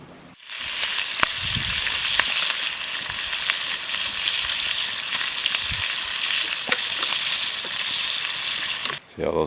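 Bacon fries in a pan at a lakeside campsite with a dense, loud crackling sizzle. It starts abruptly, runs steadily with scattered sharp pops, and cuts off at the end.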